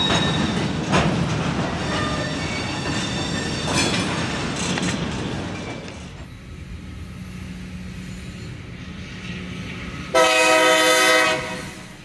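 A freight train rolls past near Birmingham, Alabama, with loud rumbling and clattering wheels that fade to a quieter distant rumble, then a horn blast rings out for about a second near the end.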